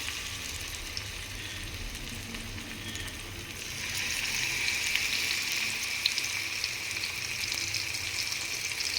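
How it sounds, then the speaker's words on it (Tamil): Masala-marinated fish frying in hot oil, a steady hiss and sizzle that grows louder partway through as the fish goes in, close and continuous without speech. "எண்ணெய் காய்ஞ்சதுன்னா அப்புறம் நம்ம மசால் போட்டு வச்சுருக்க மீனை எடுத்து வச்சிடலாம்."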